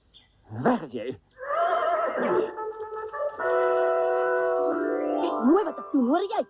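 A horse neighs and whinnies in repeated rising and falling calls across several seconds, sounding fairly close in a dramatic outdoor scene, with a few brief vocal bursts at the start and end.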